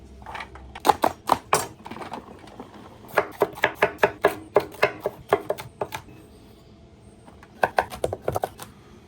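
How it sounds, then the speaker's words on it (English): Knife chopping tricolor potatoes into bite-sized pieces on a cutting board, with sharp irregular clusters of close, loud cuts, a brief pause in the middle and a final burst near the end. "I'm gonna cut those down to like bite-sized pieces."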